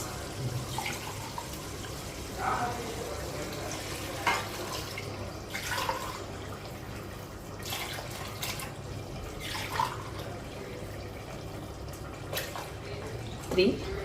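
Water pours and splashes into a pot in uneven bursts, with a faint voice speaking softly in the background.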